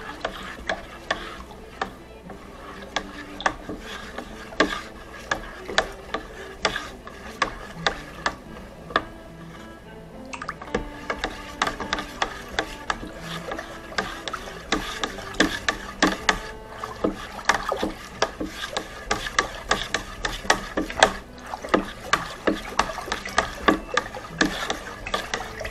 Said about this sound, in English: Now we'll take our wand, move this out of the way, and stir this up.